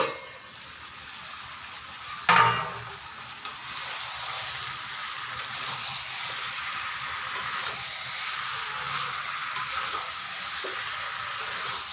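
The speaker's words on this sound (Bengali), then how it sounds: "ভালো করে নাড়াতে হবে" Chicken feet curry sizzles steadily in a pan, with a sharp clatter as the lid comes off followed by soft scraping and stirring strokes close by, without any talking.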